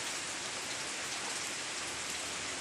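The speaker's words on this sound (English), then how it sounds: "the rain started picking up a lot, so it's going to be a wet walk back home to the house" Heavy rain from Hurricane Harvey pours steadily outdoors near the water, a dense, even hiss with no breaks and no voices.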